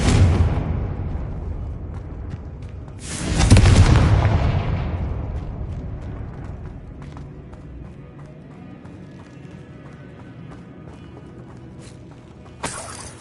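Confringo spell explosions in Hogwarts Legacy, with a loud, close blast bursting out and slowly rumbling away over several seconds, a lighter hit at the start and a brief sharp crack near the end.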